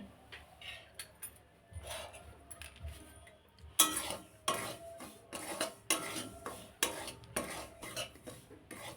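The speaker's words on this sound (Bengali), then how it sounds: "ঘি দিয়ে অল্প করে একটু ভেজে নিচ্ছি" Semolina being stir-fried in a little ghee over low heat, heard as a series of scraping, clinking stirring strokes of a utensil against the pan, moderately close with a faint background hiss.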